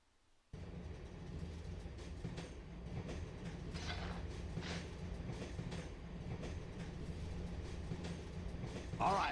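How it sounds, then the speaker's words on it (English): In the Dark Cloud 2 video game, a train rolls along the tracks with a continuous rumbling clatter and rhythmic wheel clicks. It starts abruptly after a brief quiet moment and holds steady at moderate loudness. "this train is awesome"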